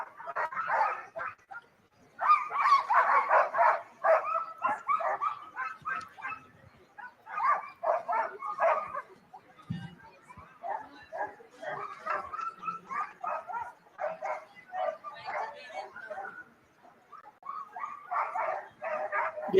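Sled dogs at the Iditarod ceremonial start bark, yip and whine in repeated bursts, a restless chorus of several dogs that keeps going with short pauses, fairly close.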